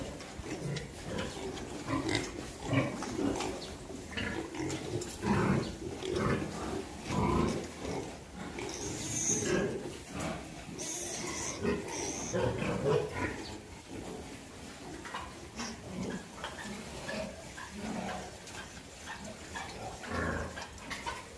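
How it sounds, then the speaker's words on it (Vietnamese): A herd of pigs feeding on mixed feed on a farm, with continuous grunting, oinking and snuffling from many animals close by and the clatter of eating, steady and busy throughout. "Đàn heo của mình hôm nay ăn phối trộn là được 17 ngày nè các bạn."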